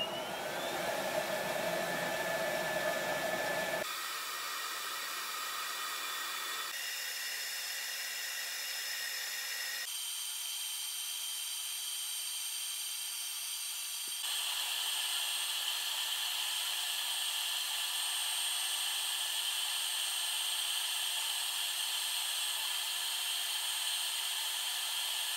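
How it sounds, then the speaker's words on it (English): A Beamo CO2 laser machine cutting 5mm plywood gives off a steady mechanical whir and hum whose pitch shifts in distinct steps as it moves, constant and moderately quiet with no voices. "5mm wood, and I put the Beamo laser to work."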